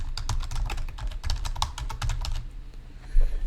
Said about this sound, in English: So we can double click and type the domain name.